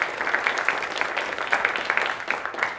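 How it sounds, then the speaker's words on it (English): An audience applauds students at the Nevada Science Bowl championship, a steady, even wash of many hands clapping throughout, with no voices standing out. "a well-deserved round of applause for every student participating"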